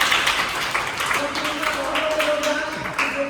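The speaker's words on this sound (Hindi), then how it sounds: "उनके लिए भी तालियां बजा दें" Audience clapping at a school fire-fighting awareness session, a steady wash of many hands with tonal voices or music lines running underneath.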